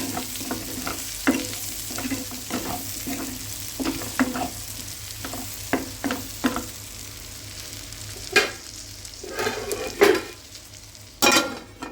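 Raw prawns fry in a pan with a continuous sizzle, broken by repeated scraping stirs that come in irregular bursts, some sharper and louder, with no talking.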